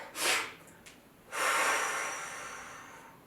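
Two forceful, exaggerated breaths during a bodyweight ab exercise, a short sharp exhale followed after a pause by a longer drawn-out breath that fades slowly, close and clear.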